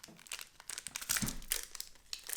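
The wrapper of a bag of KitKats crinkles as it is opened. Close, bursty crackles and rustles come in uneven bursts for a couple of seconds, with no talking.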